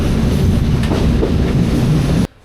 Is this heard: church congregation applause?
no